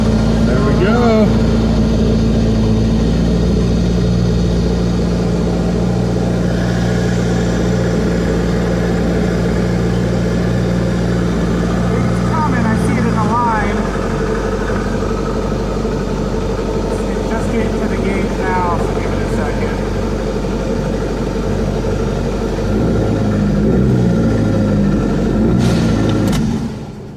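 A 1986 Shelby Charger autocross build's engine runs at a steady idle close by, its low rumble continuing throughout and shifting slightly partway through, while people talk over it.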